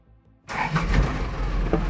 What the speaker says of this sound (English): the park ranger immediately kicked the engines on and moved the vehicle to a safer location